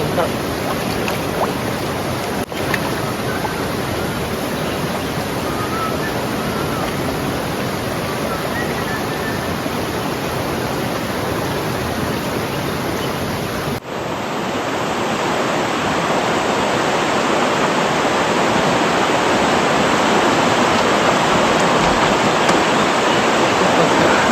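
Muddy water running off farm fields, a loud, constant rushing flow that grows slightly fuller partway through, with no break.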